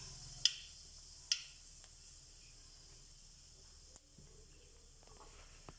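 Sparse sharp pops crackle over a soft, steady sizzle of fennel seeds frying in about four spoons of hot oil, quiet and close.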